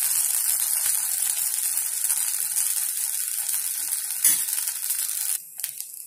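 A Madurai veg kheema dosa frying on a hot pan with a little oil added after flipping, a bright hissing sizzle throughout, a brief clink partway, then the sizzle drops abruptly and fades.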